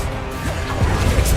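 A Protego shield spell cast in the video game Hogwarts Legacy, heard as a short, crashing magical impact burst over steady background game noise.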